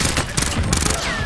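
Gunfire in the Warzone video game during a pistol-only match: dense, continuous crackling bursts of shots fill the moment, loud and unbroken throughout.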